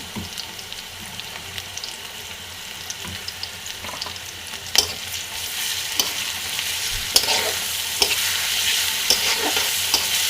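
Pumpkin frying in a pan with ginger-garlic paste gives a steady hiss, broken by sharp scrapes and knocks as it is stirred, the sizzle growing a little livelier toward the end.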